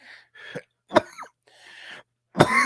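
A few short, separate coughs and throat-clearing bursts, close and fairly loud, with quiet gaps between them and a stronger cough at the end.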